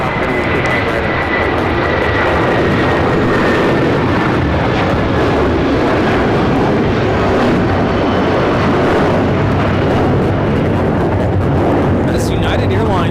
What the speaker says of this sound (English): United Airlines 1431 taking off to Honolulu on the 757-300.